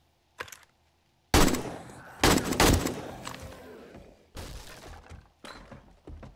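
Loud, sharp gunshots ring out in the zombie survival game 7 Days to Die against bandit bikers, with one early shot followed by several heavy blasts and echoing impacts spaced over a few seconds.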